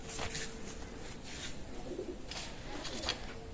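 Soft, low cooing of a pigeon repeating a few times against a quiet background hum, with faint rustling.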